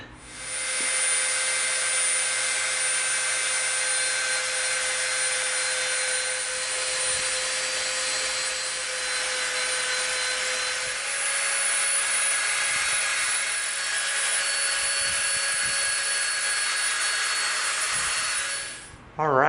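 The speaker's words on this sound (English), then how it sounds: "we're gonna get our Dremel out, and we are going to round off the edges of this chain" Dremel rotary tool rounding off the edges of an EVA foam chain, a high steady whine running almost nonstop with slight pitch wavers as it bites the foam, ending abruptly when switched off.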